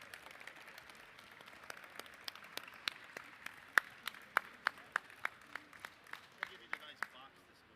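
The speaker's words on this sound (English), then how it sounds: "please a round of applause to congratulate Senator Sebo" Scattered applause at an award show honouring a senator. A small audience claps at a steady, fairly quick rhythm, somewhat distant and moderate in volume, fading toward the end.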